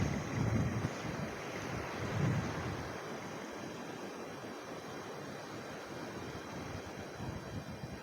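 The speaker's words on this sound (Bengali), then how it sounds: "অসাধারণ সমুদ্রের কি পরিমাণ গর্জন সাউন্ড শুনতে পাচ্ছেন কিনা আমি জানি না" Sea waves roar in a continuous low wash along the shore at Colombo, Sri Lanka, with heavy wind buffeting the microphone and no voices.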